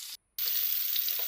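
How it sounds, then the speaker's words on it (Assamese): Fish pieces fry in hot oil in a wok with a close, even crackling sizzle that cuts out briefly near the start and then carries on steadily with no voices. "কেৰাহীত তেল গৰম হ'বলৈ দিয়াৰ পাছত তাতে মাছ কেইপিচ ফ্ৰাই হ'বৰ বাবে দি দিছোঁ।"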